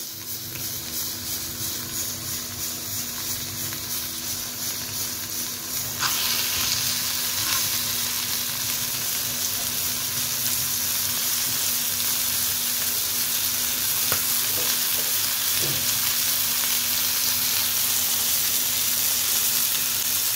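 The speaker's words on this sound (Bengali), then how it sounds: "এটা মিনিট 5-7 মিনিট এই পিঠটা ভাজবো, তারপরে আবার উল্টে দেবো" Food fries in refined oil in a frying pan with a continuous close sizzle that swells louder after a few seconds, with occasional light scrapes; no talking.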